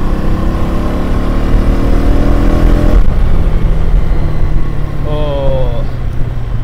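A motorbike engine revs and pulls hard while riding, a steady loud drone with rising pitch sweeps near the end, under excited voices talking over it.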